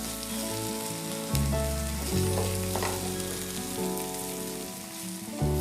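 Ginger garlic paste sautéing with onions in a pan for roadside kalan, a steady moderate sizzle with stirring, while a tonal hum runs underneath.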